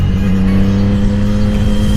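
Triumph Street Triple motorcycle fitted with an SC Project exhaust revs with a steady, loud, close engine drone at one sustained pitch, alone without talk.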